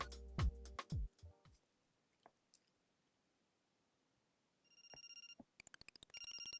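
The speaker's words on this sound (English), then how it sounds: "you're getting a phone call" A mobile phone ringtone breaks in after a few sharp clicks and knocks, its bright electronic tones starting softly, then pulsing in a fast repeating pattern that grows louder and fills the end.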